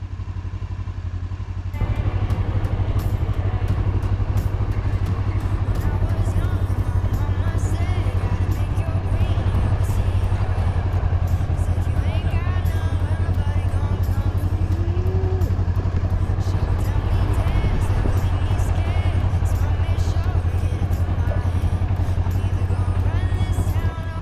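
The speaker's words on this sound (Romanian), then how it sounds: "This is my third session of riding a motorcycle." A motorcycle ridden by a learner in an early practice session, its engine a steady, loud low drone throughout with occasional clatter and thumps, wind noise, and no speech over it.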